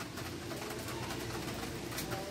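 Pet racing pigeons coo softly inside a loft, a low murmuring burble that keeps on under steady background noise, with no one talking.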